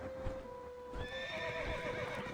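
Horses neighing in a staged fantasy scene, a drawn-out whinny followed by a second higher call, with faint hoof clip-clops and steady background sound underneath.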